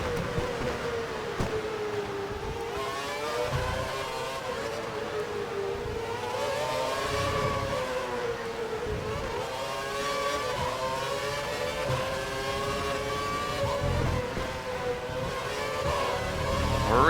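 A race car engine screams at full revs in the F1 2012 video game at Abu Dhabi's Yas Marina, a sustained high-pitched whine rising and falling with gear changes throughout, with no voices.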